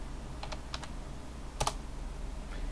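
Several quick keystrokes on a computer keyboard as a password is typed in a quiet room, a few soft clicks then a sharper double tap like the Enter key, with a faint last click near the end.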